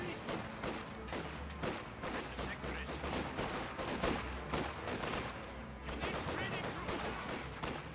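Dense, continuous small-arms and machine-gun fire crackles in a Company of Heroes 2 battle, with rapid overlapping bursts and low rumbling explosions throughout, under a constant busy din.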